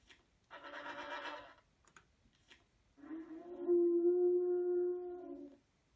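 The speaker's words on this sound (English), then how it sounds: "You can see here we see information about dinosaurs, and we get sound effects." Dinosaur sound effects from an educational dinosaur app: a raspy, breathy roar followed by a longer, louder tonal howling call that holds steady and then fades, both close and clear with no talking.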